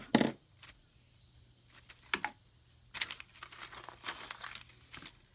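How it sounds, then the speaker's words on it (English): Ephemera paper pages are cut down to size in quiet, intermittent crisp snips and rustles, with short bursts of papery crinkling between pauses. "So we're going to cut this one down to"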